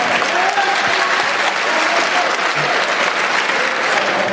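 An audience at a debate claps loudly and steadily in a dense, continuous burst of applause, with crowd noise mixed in throughout.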